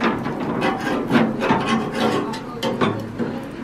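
Old grease scrubbed off barbecue grill grates outdoors, a continuous close rasping scrape with rhythmic back-and-forth strokes, loud and steady without talk.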